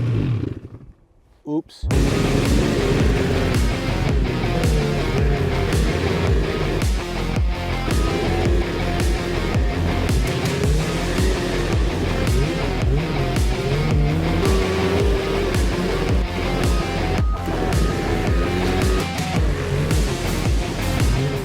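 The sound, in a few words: snowmobile engine starting and driving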